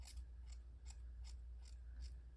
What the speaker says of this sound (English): So I'm going to go ahead and start trimming.